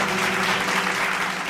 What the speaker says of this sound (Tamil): கைத்தட்டுங்க இருக்கு